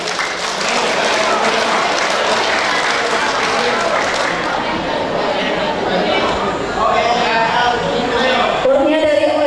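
An audience at a school reunion applauds a choir with loud, sustained clapping that fills the hall, while crowd chatter mixes in toward the end.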